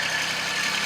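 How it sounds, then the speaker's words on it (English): A homestead tractor idles steadily nearby, a continuous low engine rumble with no other sounds over it. "you can hear the tractor in the background"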